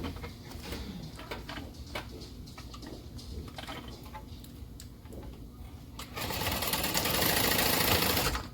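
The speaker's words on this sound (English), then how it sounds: "we're going to sew down the line we made earlier" A sewing machine stitches the zipper panels of a Monroe handbag, with scattered clicks and handling sounds before a loud, continuous whirring run of stitching near the end, and pigeons cooing faintly in the background.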